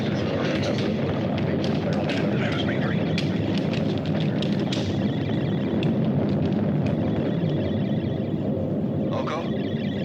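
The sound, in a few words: stellar explosion sound effect in a sci-fi film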